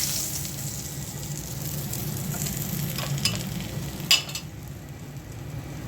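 Pangas fish sizzles steadily as it fries in a pan, a continuous crackle with faint utensil clinks and a short scrape near the end.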